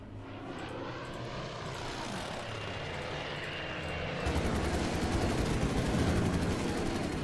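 Propeller aircraft engine drone in the Order of Battle video game as a bomber comes under attack, a steady hum that grows louder with faint gunfire mixed in.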